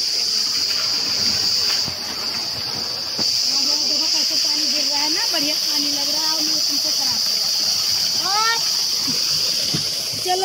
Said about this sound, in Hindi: देखो कैसे पानी गिर रहा है ना, बढ़िया पानी लग रहा है।